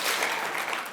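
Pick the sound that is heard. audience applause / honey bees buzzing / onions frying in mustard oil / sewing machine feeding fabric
audience applause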